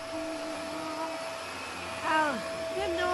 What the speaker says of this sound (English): Mrs. Harris, turn off the Hoover